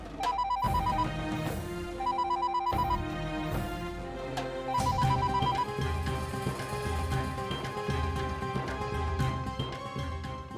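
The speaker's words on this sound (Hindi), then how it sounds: "घर पे कोई फोन नहीं उठा रहा है" A telephone rings on and on with no one picking up, its repeating electronic ringtone bursts sounding over a dense bed of dramatic background music, with no voices.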